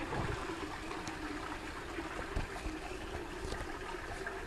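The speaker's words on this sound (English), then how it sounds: "There you can see the toilet flushing." A toilet flushing in a school toilet, a steady rushing and trickling of water at moderate volume, continuous and alone with no voices.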